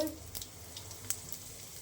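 Cumin, fenugreek, curry leaves and a pinch of asafoetida hiss briefly in hot oil for a moong dal sambar tempering, a soft, close sizzle with a few sharp pops.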